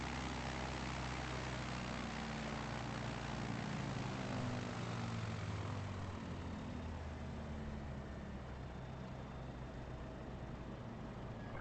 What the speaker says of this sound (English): So I'm going to probably use this airplane, because this one's got the best vertical takeoff and landing.